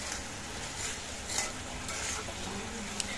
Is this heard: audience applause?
no